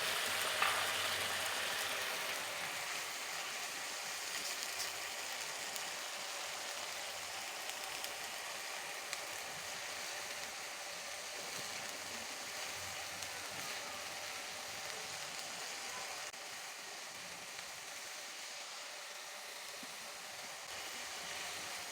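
Masala sizzling in a pan after coconut milk is added for prawn malaikari, a steady broadband frying hiss that holds evenly throughout, close and moderately loud with no talk.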